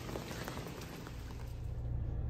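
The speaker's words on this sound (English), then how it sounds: "It's rainy out right now," Rain falls at a state park campsite as a soft, steady patter on surfaces, faint and continuous, with no voices.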